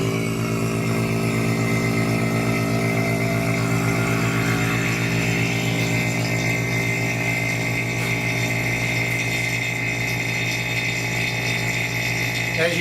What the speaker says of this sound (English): I'm gonna go ahead and use that vacuum pump on this hose.